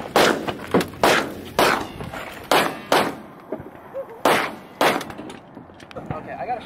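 Gunshots ring out at a shooting range, about eight sharp, loud reports fired in an uneven series with short gaps between them, while people talk casually around the shots.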